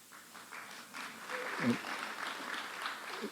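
Applause from a story slam audience, a steady patter of many hands clapping at moderate volume, with a brief low murmur partway through.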